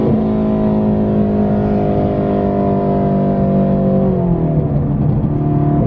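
A deep, powerful supercharged Shelby GT350 engine revs and holds a throaty tone, then drops in pitch near the end, loud and close with no talking.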